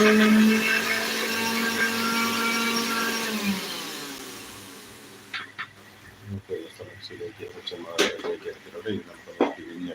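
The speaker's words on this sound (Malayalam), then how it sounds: "തേങ്ങാപ്പാൽ കിട്ടാൻ തേങ്ങ മിക്സിയിലേക്ക് ഇട്ടിട്ടുണ്ട്" A mixer grinder whirs loudly as it grinds grated coconut for coconut milk, a high steady motor whine for several seconds that winds down and stops, followed by quieter knocks and handling noises.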